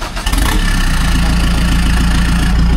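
Toyota Hilux diesel with a big turbo and short pipe cranks briefly, then settles into a loud, steady, throbbing idle close by.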